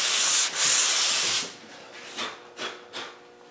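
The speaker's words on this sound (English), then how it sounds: "So we're just going to sand over the top ever so lightly." Light hand sanding of a guide coat over body filler on a car panel: a steady close abrasive rasp for about a second and a half, then three short separate strokes that fade out.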